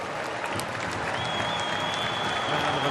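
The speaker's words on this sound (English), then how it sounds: "Round of applause" Stadium crowd at an A-League football match between Adelaide United and Sydney FC applauding an injured player, a steady, dense roar of clapping from a large distant crowd with a faint whistle-like tone running through it.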